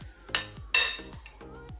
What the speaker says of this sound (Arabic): وغادي نخلط هاد المكونات مزيان